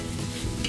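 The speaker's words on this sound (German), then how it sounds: "Und lassen wir jetzt Bauchspeck und Zwiebel rein und groß anbraten." Pork belly and onions sizzle and crackle in hot oil in a Dutch oven, with a steady loud frying hiss and a brief stirring scrape near the end.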